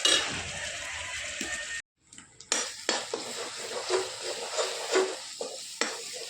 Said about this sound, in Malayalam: വലിയ ഉള്ളി ചേർത്ത് നന്നായി സോഫ്റ്റായി ഗോൾഡൻ കളറായി വരുന്ന വരെ നമുക്ക് വഴറ്റിയെടുക്കാം